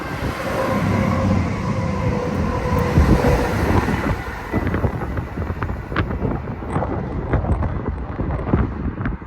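Four-carriage passenger train, a single unit bound for Aberdeen, rumbling past nearby with a steady roar that gives way to rhythmic clicks of wheels over rail joints, with wind noise and no talk.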